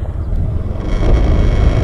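Scooter engine throttled gently and smoothly during a slow U-turn, a close, low steady hum with a slight rise, mixed with wind rumble on the microphone.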